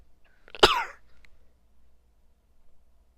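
A single sharp sneeze bursts out indoors at close range, loud and brief, followed by near silence with a few faint rustles.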